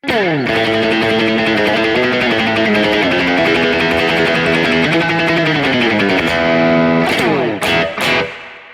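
A surf-style electric guitar played through a Tone City spring reverb pedal, loud sustained chords and sliding notes drenched in boingy, splashy reverb, ending in a few sharp strums that ring out alone.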